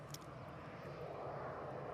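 A Loganair Embraer jet lines up on runway 05 left at Manchester Airport, its engines giving a steady, moderate broadband rumble that holds even throughout.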